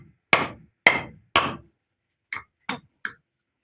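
Hammer driving nails: six sharp metallic strikes, three louder evenly spaced blows followed by a pause and three quicker, lighter taps, close and alone without speech.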